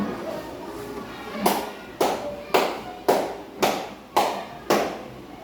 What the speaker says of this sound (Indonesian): Kamu pakai tepuk tangan kayak tadi.